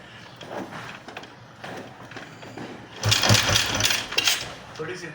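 A 1961 Matchless G3 motorcycle, started after 62 years, sputters into life and runs with an uneven, rising engine note, while people talk nearby.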